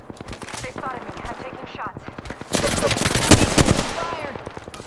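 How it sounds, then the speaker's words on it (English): Rapid automatic gunfire in the Apex Legends battle royale shooter, a dense burst of shots that swells louder and more chaotic midway, with a player's voice talking over parts of the firefight. "They spotted me. I'm taking shots."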